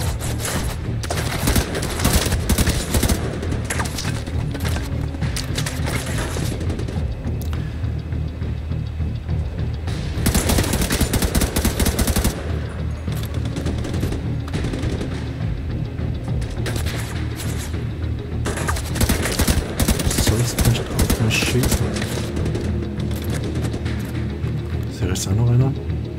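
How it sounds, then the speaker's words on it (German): Heavy crossfire in the shooter game The Division 2, with bursts of automatic weapon fire and booming shots coming in dense waves, loud and near, over a steady low background rumble. "Das ist bestimmt unangenehm, wenn man zu Kreuzfeuer genommen wird."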